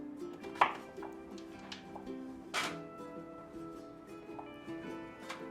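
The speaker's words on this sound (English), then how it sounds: "And then just keep cutting the cubes." Kitchen knife cutting a vegetable stem into cubes on a board, a few sharp chops spaced irregularly, moderately close and quiet, with faint tonal background hum.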